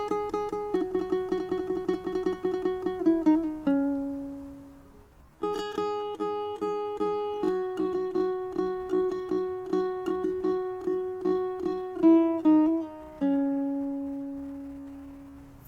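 Ukulele phrase played on open strings with hammer-ons and pull-offs, a steady run of plucked notes with two held, ringing notes and a short pause before the phrase resumes.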